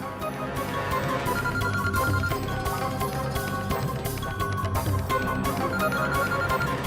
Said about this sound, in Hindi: घंटी तो जा रही है, ये फोन क्यों नहीं उठा रही है तपस्या?